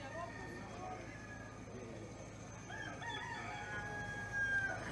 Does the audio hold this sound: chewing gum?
no